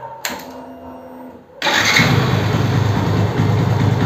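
Yamaha motorbike after throttle cable replacement: a brief starter whir, then the engine catches and settles into a steady, fairly loud idle close by.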